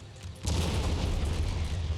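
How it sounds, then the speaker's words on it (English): Artillery cannon shots slamming into a hill during a battle in the strategy game Empire, a loud rumbling boom that swells suddenly and rolls on as a dense, sustained roar. "And the artillery is bouncing shots off the hill."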